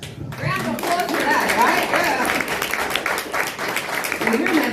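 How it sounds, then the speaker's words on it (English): Audience applause at a political rally, a steady crowd of hand claps running through the whole clip with scattered voices and chatter mixed in. "All right. Round of applause for"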